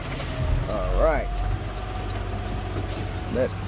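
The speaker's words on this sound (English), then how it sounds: "let's turn this truck around and get the other half side of this street." A garbage truck engine on a Los Angeles residential collection route rumbles steadily and loudly at close range, with a brief rising whine and a hiss of air in between.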